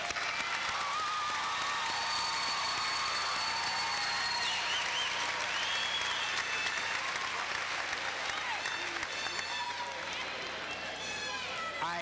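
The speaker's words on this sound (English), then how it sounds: "Let's give this group a thunderous round of applause for their accomplishments on today." Sustained applause from a large audience at a graduation ceremony fills the space, dense and steady, with some cheering and voices mixed in.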